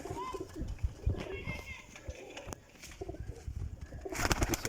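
Golden teddy pigeons, flying breeds, cooing softly nearby with repeated throaty calls. Voices and children's chatter can be heard around them.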